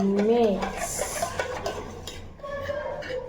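A mixing tool stirs a drink of water with salt and cumin, producing soft swishing and light clinks against the vessel, with brief talk and household background sounds around it.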